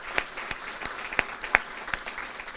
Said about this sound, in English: Can we have one more round of applause for Bailey?